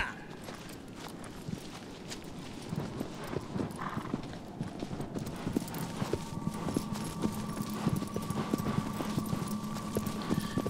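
Steady clip-clop of horse hooves at a ride in the game Shadow of the Colossus, a continuous rhythmic trot with a faint whinny, mid-distance over a soft game ambience.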